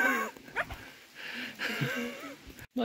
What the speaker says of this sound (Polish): bo to jakiś ktoś szczeka